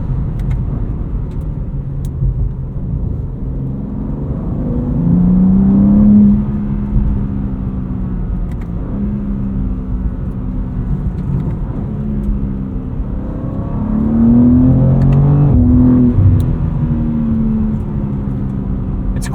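A 2026 BMW M2 CS driven from inside the cabin, a steady engine drone and road rumble rising twice as it accelerates, with pitch sweeps through quick gear shifts, moderately loud and continuous.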